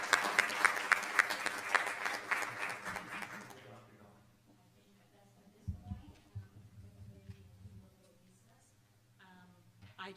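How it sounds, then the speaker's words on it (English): A school board meeting audience claps for the district's Teachers of the Year in a dense, lively burst lasting about four seconds, then it fades out, leaving quiet room noise and faint low voices. "one more round of applause for our Teachers of the Year"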